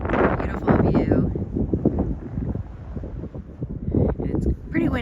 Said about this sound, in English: And it's pretty windy up here today, so we're holding on to things